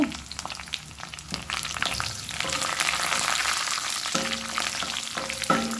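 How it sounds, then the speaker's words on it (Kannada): Chana dal sizzles in hot tempering oil, a crackling fry close up with stirring clinks and brief tonal scrapes of a spoon against the pan, no voices. "ಒಂದು ಸ್ಪೂನಷ್ಟು ಕಡಲೆಬೇಳೆಯನ್ನು ಒಗ್ಗರಣೆಯಲ್ಲಿ ಹಾಕೊಳ್ತೇನೆ"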